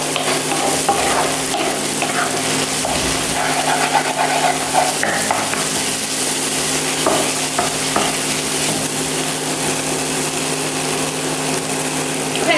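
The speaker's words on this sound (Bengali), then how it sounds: "তো আমি মশলাগুলো ভালো করে কষাবো, নাহলে কাঁচা গন্ধ থেকে যেতে পারে।" Spices being stir-fried in a pan for a chicken roast: a continuous sizzle with scraping and stirring strokes of a utensil against the pan, close and steady with no talking.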